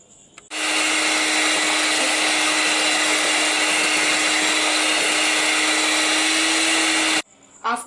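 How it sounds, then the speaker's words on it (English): A small mixer grinder jar whirs loudly and steadily for about seven seconds as it blends curd with finely chopped orange peel, starting and stopping abruptly with a faint clatter afterward. "After grinding 1 cup of curd and orange peel, I will strain it"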